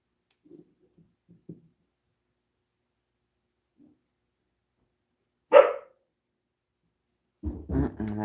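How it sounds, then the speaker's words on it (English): A single dog gives one sharp bark midway after long quiet with faint scattered noises, followed near the end by a short burst of further yelps or barking. "Now the dog's gonna bark."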